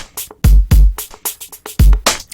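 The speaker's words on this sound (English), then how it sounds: "it's a little sort of hi-hat sound sort of thing" Rearranged hi-hat sample hits in Ableton Live play as a short, uneven electronic pattern of crisp ticks mixed with punchier low thumps, loud and close with no voices.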